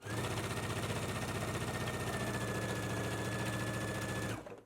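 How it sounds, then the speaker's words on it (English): Sewing machine stitching a full placket seam at a 5/8-inch seam allowance, a steady loud mechanical whirring chatter running evenly for several seconds before stopping abruptly. "we can go ahead and stitch using a 5/8 of an inch seam allowance"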